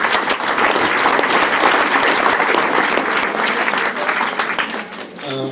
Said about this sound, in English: that thunderous clap is a sign of appreciating you